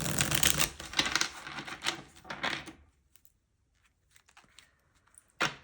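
A deck of tarot cards is shuffled up close, a dense run of quiet papery riffles and flicks that thins out into sparse taps, with one sharp snap at the end.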